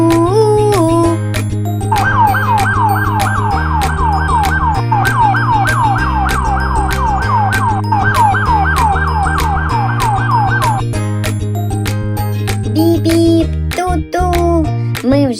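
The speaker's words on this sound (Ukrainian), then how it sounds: "Я пожежна машина. Якщо десь вогонь, я миттю лечу гасити." A fire engine siren wails in a fast rising-and-falling yelp, then switches to a slower two-tone pattern, loud and close with no talking.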